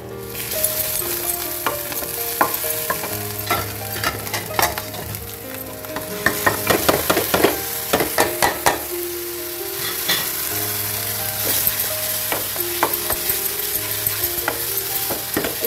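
Spices with chili powder and salt frying in a pan while a spoon stirs them, a loud close sizzle broken by clusters of quick metallic scrapes and taps.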